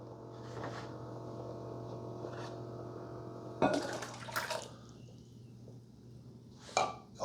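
A Keurig K-Supreme Plus coffee maker runs a freshwater rinse cycle after vinegar descaling, giving a low steady pump hum with a few brief gurgling, splashing bursts of water, close by.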